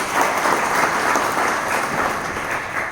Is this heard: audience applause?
yes